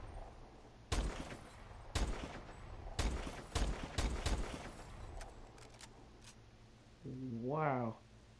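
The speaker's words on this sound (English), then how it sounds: "Oh wow, I just missed all the shots." Gunfire in the video game Black Ops 3: five or six sharp shots spaced about a second apart, fairly loud over a low background hum, followed near the end by a brief rising tonal game sound.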